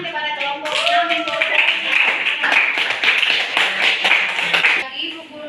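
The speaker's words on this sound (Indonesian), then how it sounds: "beri tepuk tangan kepada kelompok 6" A classroom applauds a student group, with many hands clapping together in a quick, busy burst for several seconds, close by, while a voice talks over the start and end.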